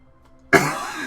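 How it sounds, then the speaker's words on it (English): A single loud, harsh cough bursts out up close after a quiet moment and trails off raspily. "I'm just coughing a lot today."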